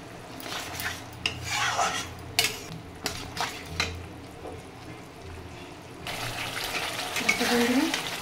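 Mustard spice paste being sautéed for bhola fish in a pan, with a spoon scraping and stirring in irregular strokes, occasional utensil clinks and a soft frying sizzle growing louder toward the end.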